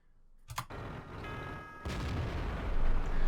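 A tank cannon in World of Tanks fires a sharp booming shot, followed by rumbling engine and battlefield ambience, then a second heavier burst of noise building toward the end, with no talk.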